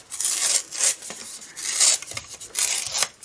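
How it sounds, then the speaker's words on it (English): Paper being torn by hand while making a Stampin' Up! card gives close, rough rasping rips in several short bursts, with pauses between pulls and no talk. "Okay, and I'm going to tear just sort of halfway down here,"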